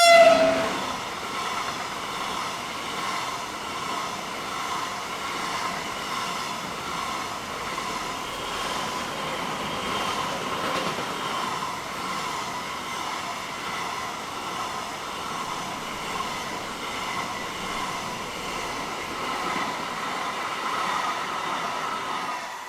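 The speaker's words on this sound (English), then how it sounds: "A freight with 37035 in charge was along next." Freight train hauled by locomotive 37035 passes steadily for over twenty seconds, a sustained loud diesel rumble with rolling wagon noise and a brief horn-like tone at the start, no voices.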